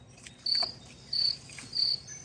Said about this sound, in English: the sound of a cricket chirping away not far peacefully helped our explorer to fall asleep